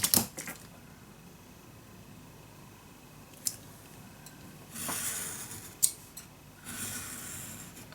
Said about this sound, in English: And then again, I'm gonna cut my lines.